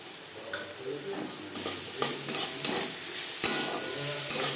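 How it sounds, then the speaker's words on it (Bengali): Potatoes fried with asafoetida sizzle softly in a pan while a utensil stirs them, with occasional light scrapes and clinks against the pan. "আলুর সাথে হিম বেশ ভালো করে মিক্স করে দেবো"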